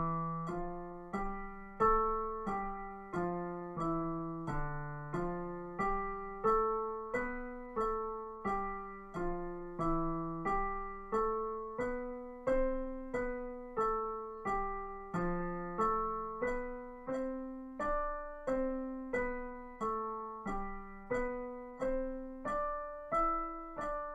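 Piano plays a steady scale, one note per metronome click, the notes moving up and down in an even pulse with faint clicks, moderately quiet and alone for about twenty-four seconds.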